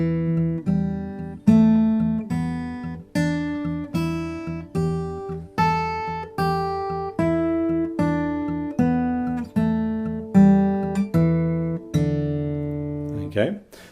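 Fingerstyle blues guitar on a single instrument, with a swinging eighth-note thumb bass running against a quarter-note scale played with the fingers, plucked notes ringing and decaying in a steady pulse, close and clear with no talking.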